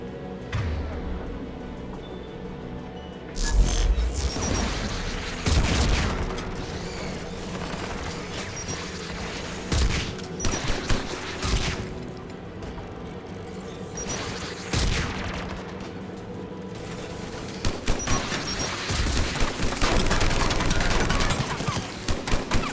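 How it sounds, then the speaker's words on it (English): Geth anti-aircraft guns in Mass Effect 3 fire in repeated heavy bursts of booming gunfire, loud and close, over a constant low rumbling battlefield drone with occasional mechanical noises. "The Geth anti-aircraft guns are up ahead."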